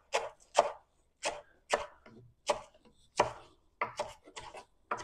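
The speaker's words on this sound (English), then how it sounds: "You just want to cut up your green onions." Green onion stalks chopped with a knife for a pork dish: about eleven crisp, close knife strikes in a steady, slightly uneven rhythm, with no talking.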